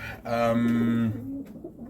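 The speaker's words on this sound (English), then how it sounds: "So we are basketing our pigeons up." Racing pigeons being basketed coo in a low, throaty run of notes, close and moderately loud, the call swelling and trailing off with a fainter second coo after it, no talk over them.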